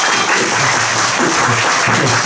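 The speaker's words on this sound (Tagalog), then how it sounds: "pumalakpak." Church congregation at a mission service in Cagwait, Surigao del Norte, clapping together in a loud, dense burst of applause that holds steady from start to finish.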